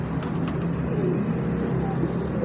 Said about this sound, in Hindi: माशाल्लाह डब वाला कबूतर है,